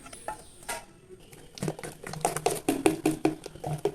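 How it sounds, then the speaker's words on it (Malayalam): Neyyappam batter being stirred by hand in a bowl after warm jaggery syrup is poured in, with soft wet patters and light clinks of utensil against the vessel, quiet at first, then a busier run of uneven close strokes. "മാവിലോട്ട് ഒഴിച്ചതിന് ശേഷം നന്നായി ഇതുപോലെ ഒന്ന് മിക്സ് ചെയ്തെടുക്കണം"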